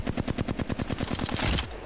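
A rapid burst of automatic gunfire from a weapon in the video game Apex Legends, a dense, evenly spaced stream of shots that runs for nearly two seconds before ending.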